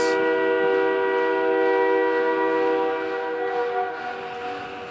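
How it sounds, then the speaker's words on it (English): A train horn blares at a junior hockey game during the intermission, one long sustained multi-tone blast filling the rink, fading slightly toward the end. "With a train horn sounding that is reminiscent of the horn that they play at Houston"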